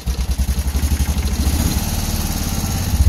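An Isetta microcar's small engine pulling in first gear on a test drive, a loud, steady throb with a quick rhythmic pulse and a slightly rattly, clattering edge, close by and alone.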